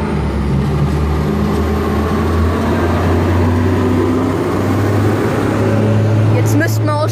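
A heavy vehicle rumbles by with a steady low drone that holds throughout and swells slightly toward the end, heard outdoors beside a road while someone is out playing a mobile game.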